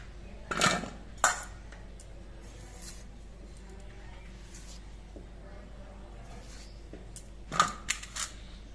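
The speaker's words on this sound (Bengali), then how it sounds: "এবার আলুগুলো আমি ডুমো ডুমো করে কেটে নিচ্ছি" Peeled potatoes being cut into cubes with a knife, giving a few quiet, sparse knocks on the board separated by long pauses.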